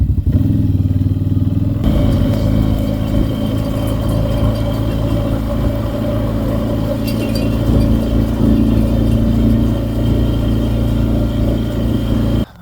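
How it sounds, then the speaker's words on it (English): A rototiller engine runs loud and close, a continuous rough, clattering drone that holds steady throughout and cuts off abruptly at the very end. "Rototiller no good for propelling."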